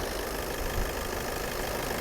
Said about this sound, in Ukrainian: Двигун працює без ніякої вібрації.